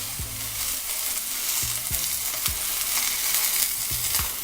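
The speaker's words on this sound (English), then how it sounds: "Or once the oil is nice and smoking hot, we're going with our steak." Steak sears in smoking-hot oil in a pan with a loud, continuous crackling sizzle and a few low thumps as the meat shifts. No talking is heard.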